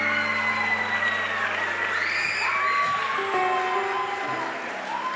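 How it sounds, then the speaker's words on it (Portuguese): A church audience at a sermon cheers and whoops loudly, with a dense, sustained roar of crowd noise and scattered shouts carrying through the whole stretch at steady volume. "Aplaude de verdade se você quer aplaudir."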